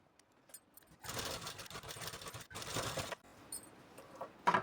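A sewing machine runs in two close bursts, one longer and one shorter, while putting a loose basting stitch through the lining fabric of a katori blouse. Quiet handling sounds fall before and after, with no speech.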